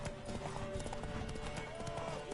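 Rapid clip-clop of a horse galloping in a horse race in the video game The Witcher 3: Wild Hunt, continuous thudding hoofbeats mixed with game music and ambient sound.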